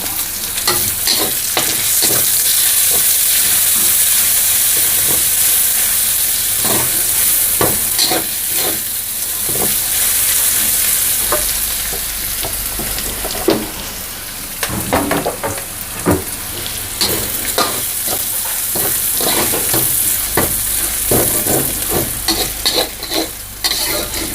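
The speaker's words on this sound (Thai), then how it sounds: "เอากระเทียมลงไปเจียว" Garlic frying in hot oil in a pan for a stir-fry of mixed vegetables, a loud continuous crackling sizzle with frequent scraping and clattering stirs throughout.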